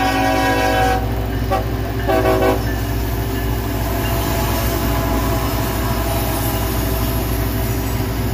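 A new CSX freight locomotive passes close by with a loud, steady rumble, a brief horn-like toot near the start and faint metallic squeal above the continuous roar of the rolling train.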